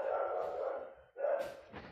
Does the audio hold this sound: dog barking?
yes